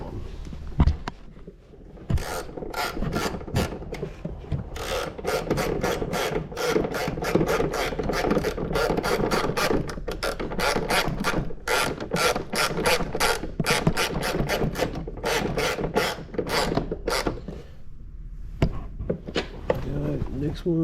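A ratchet clicks in long, steady bursts while turning a long-threaded bolt during a USB install on a 2022 310X or 310LX-S, the close, rapid pawl ticks repeating for nearly the whole stretch with brief pauses between strokes.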